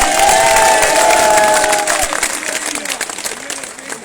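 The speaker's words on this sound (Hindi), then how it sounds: "जरा जोरदार तालियां मोदी जी के बजाय" A large outdoor crowd at a political rally applauds and cheers loudly, the opening seconds mixed with a sustained voice-like tone before settling into clattering claps.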